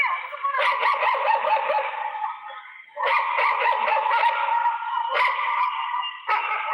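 Several dogs kept in a rented house nearby bark, yip and whine almost continuously in loud overlapping bursts, with only brief pauses between volleys.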